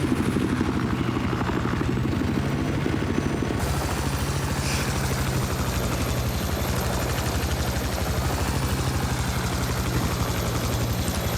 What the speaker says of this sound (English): He's trying to get the helicopter inside the building.